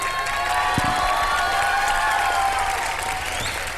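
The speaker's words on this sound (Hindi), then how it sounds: "ये लोग इस वक्त तालियां क्यों बजा रहे हैं?" Steady, dense applause from an audience fills the whole stretch, loud and continuous with a faint cheer mixed in.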